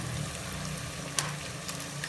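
Eggs added to frying potatoes, a steady moderate sizzle with a couple of sharp spatters and crackles as they hit the hot pan, alone without voices.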